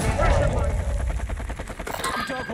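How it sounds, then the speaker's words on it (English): Gunfire from a shooter up on a rooftop in the video game Modern Warfare 2, with dense rattling shots and game noise running under close voice chat throughout. "Some guy on top, shooting."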